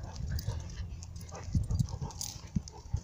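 A dog whimpering and panting close by outdoors on a house porch, short soft whines and breathy puffs in uneven bursts, fairly quiet, with no talking.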